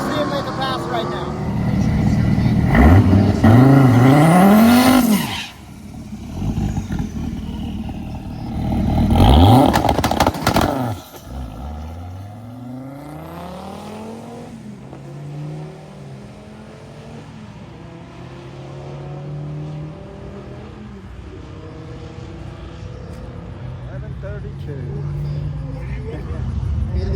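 A Dodge Viper makes a high-speed pass at a racing event, its engine swelling in two loud roaring sweeps that rise and fall as it goes by, then fading into a distant drone while someone talks over it.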